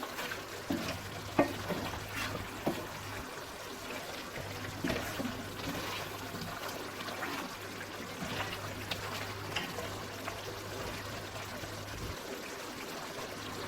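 Chicken karahi simmers uncovered in a pan as its liquid cooks off, giving a steady bubbling sizzle with soft stirring and trickling sounds throughout, a low hum underneath and no talking.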